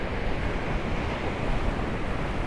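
Sea waves wash against the seafront at Paphos on a rainy day, a dense, constant roar of surf mixed with gusty wind buffeting the microphone, with no voices.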